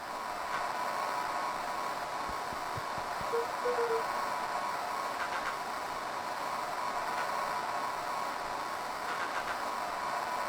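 Steady hiss of walkie-talkie radio static from the video game Beacon Pines fills the whole stretch, a dense even noise with faint crackles and a low rumble beneath, no voice breaking through.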